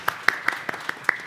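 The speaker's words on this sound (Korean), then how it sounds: "큰 박수로 환영해 주시기 바랍니다." A handful of sharp, evenly spaced hand claps ring out at a blockchain and Web 3.0 panel discussion as a guest is welcomed, each clap distinct and close, about seven in quick rhythm.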